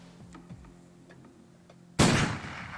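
A single loud gunshot cracks out near the end, after quiet ticking and faint clicks, during a turn in a zombie apocalypse turn-based strategy game.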